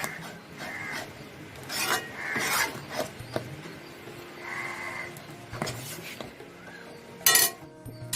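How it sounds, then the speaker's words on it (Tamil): Thick wheat halwa dough stirred in a pan over heat, giving repeated rasping scrapes and soft rubbing strokes with an occasional sharp clink of the utensil against the pan, moderately close. "ஐயில் வச்சே நல்லா கிண்டுங்க, அப்போ தான் நல்லா மாவு வேகும்."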